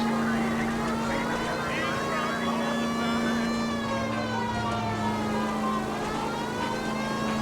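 Police car siren in the video game L.A. Noire, a steady wailing tone held throughout over engine rumble, with faint game sounds beneath.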